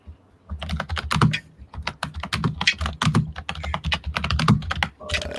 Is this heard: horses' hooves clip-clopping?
no